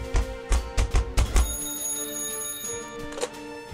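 A telephone in the Joseph Stalin Simulator video game rings with a sharp bell tone, ringing alongside rhythmic thumping at the start, then a lingering ring that fades under a low background hum.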